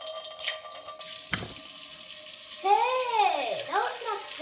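Water runs from a kitchen tap while hot dogs are prepared, a steady rushing stream with a brief clatter partway through, then gurgling, shifting tones as the flow fills a container.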